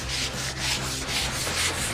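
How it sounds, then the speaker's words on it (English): Wooden flower boxes being sanded by hand, with steady back-and-forth rasping strokes about twice per second, close and fairly clear. "The first thing we're doing is sanding these flower boxes."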